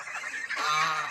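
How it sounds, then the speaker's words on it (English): Geese on a farm with young poultry give a loud, close burst of overlapping nasal honks lasting about a second. "I think the parent geese will adopt them. Oh, they're getting loud."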